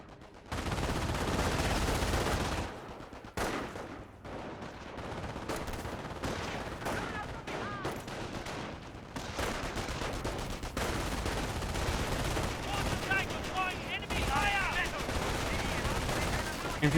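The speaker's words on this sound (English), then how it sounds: "MP42 firing away." An MP42 machine gun rattles in Company of Heroes amid a busy battlefield, sustained bursts of fire and other weapons loud for most of the stretch, with a commentator talking over it.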